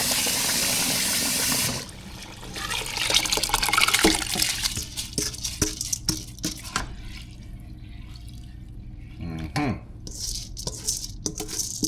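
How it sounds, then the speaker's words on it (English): Water poured into a cooking pot while preparing Jamaican oxtail, a loud rushing fill at first, then irregular splashes, drips and clinks of the pot, close and without talk. "I'm gonna add some more water to this and then dump it"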